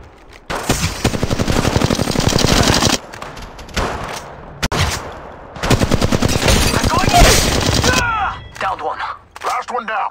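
Gunfire in the video game Apex Legends Mobile, with loud sustained bursts of rapid automatic fire that pause briefly between them, then trail off into scattered shots and effects at the end.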